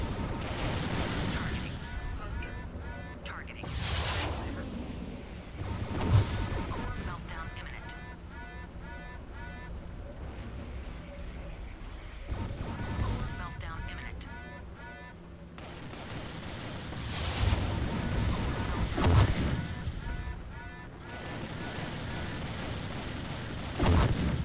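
Mech weapons firing in MechWarrior 3 during an online match, repeated sharp blasts and bursts scattered through a busy mix, with a person talking over part of it.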